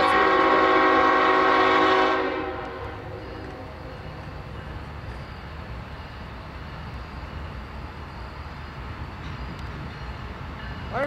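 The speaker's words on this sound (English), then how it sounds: "the day's train 10A moved south on its nightly jaunt to Northumberland" A freight train led by GE Evolution-series locomotives rolls south at night, its horn sounding loudly for the first two seconds before fading into a steady rumble of passing rail cars.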